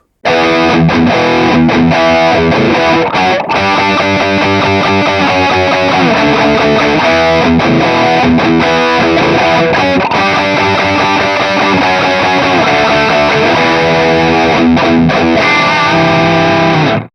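Electric guitar played through a Marshall Studio 900 High Gain Dual Reverb tube amp, heavily distorted with lots of gain and reverb, continuous loud chugging chords and riffs throughout with no talk.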